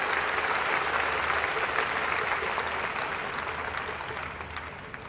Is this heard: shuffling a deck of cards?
no